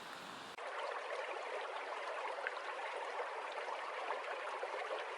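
Jungle stream water flows in a steady, continuous broadband rush after a brief opening sound, with no voices.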